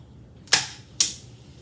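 Two crisp, sharp clicks about half a second apart come from the button on the underfolder stock of a rebuilt WASR AK rifle, heard close and alone against a quiet background.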